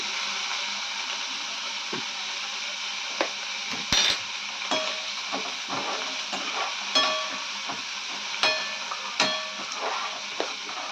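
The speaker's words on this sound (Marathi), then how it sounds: "तीळ उडायला लागले म्हणजे आपला मसाला परतलेला आहे" Sesame seeds and peanuts dry-roasting in a pan, a steady soft sizzle dotted with scattered sharp pops and ticks as the seeds jump, with an occasional spatula scrape.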